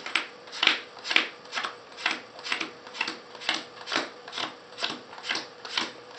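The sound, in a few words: counting out playing cards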